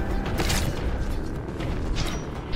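Dense, continuous gunfire and booming blasts from the shooter game Warhammer 40k Boltgun, loud and close, with sharp crashing bursts layered over a heavy rumbling roar and no talking.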